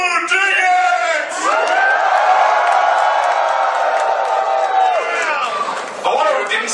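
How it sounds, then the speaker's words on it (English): A convention premiere audience in Phoenix cheers, whoops and shouts loudly and steadily, the crowd noise swelling and holding for several seconds before easing off. "I'm going to say something, and then everybody's going to cheer, okay?"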